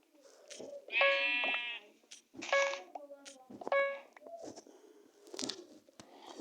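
A few bleating sheep calls in Minecraft sound up close, each a short wavering cry separated by pauses, alongside soft clicks and crunches.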